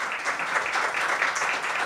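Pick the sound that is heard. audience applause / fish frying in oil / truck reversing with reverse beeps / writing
audience applause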